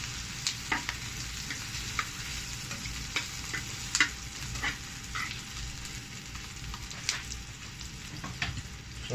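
Egg fries in a pan while a fork stirs it, a soft continuous sizzle broken by repeated scraping clicks and taps against the pan, close and fairly quiet, with no talking.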